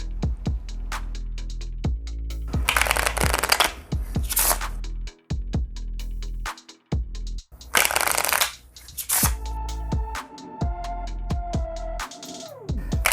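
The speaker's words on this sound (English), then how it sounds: "they could take a little bit of bridge shuffling at the moment" Playing cards for the Marvel Champions card game are bridge shuffled repeatedly, with crisp riffling bursts and soft taps as the deck is squared between shuffles, close up with no talking.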